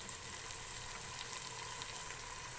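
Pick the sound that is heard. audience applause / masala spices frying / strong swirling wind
masala spices frying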